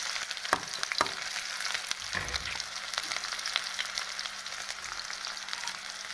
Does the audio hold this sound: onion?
yes